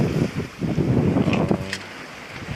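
Wind rushes and waves wash around a sailboat sailing solo downwind on the open sea. The gusting noise and sloshing water are loud and close, with no voices.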